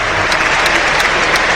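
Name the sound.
stadium crowd applauding at Brentford football match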